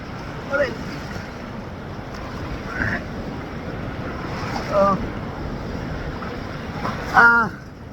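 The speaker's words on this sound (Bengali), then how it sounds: "আসলে ঘূর্ণিঝড়ের পরে এই কুয়াকাটার ঢেউগুলো অনেক বাড়ছে প্রচণ্ড" Rough sea waves roll in at Kuakata beach, swollen after a cyclone, a loud steady roar buffeted by strong wind noise on the microphone, with a few brief voices and swells rising now and then.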